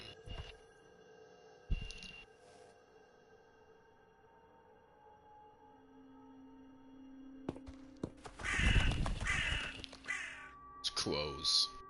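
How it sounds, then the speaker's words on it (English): Crows caw in the Wuthering Waves video game, a loud burst of harsh calls near the end following quieter game ambience, with a brief thump early on. "It's crows."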